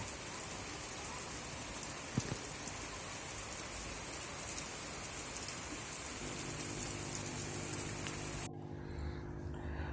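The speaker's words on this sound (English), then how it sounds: "right after I planted them, it started raining, so I decided to put them in the rain" Steady rain falls on freshly planted yucca cuttings set in loose soil. The hiss of dense drops continues alone throughout, with a faint low hum joining near the end.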